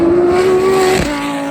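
An Audi supercar at a drag race meet, heard as a loud, close engine roar with a sustained high tone that drops in pitch as the car pulls away.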